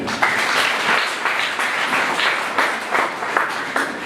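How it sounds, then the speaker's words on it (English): An audience at a Christian youth society gathering claps steadily for several seconds, a dense, even round of applause. "May we clap for them."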